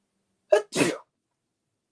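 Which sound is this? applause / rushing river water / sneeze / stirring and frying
sneeze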